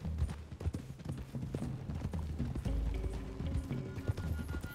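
Horse hooves trotting in the Red Dead Redemption 2 video game, a steady clip-clop rhythm mixed with game music and ambience at moderate loudness throughout.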